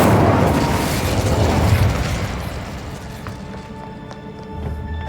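An Incendio fire spell cast in Hogwarts Legacy bursts with a loud whooshing blast at the start, then its roar fades and decays into quieter crackles and faint tones.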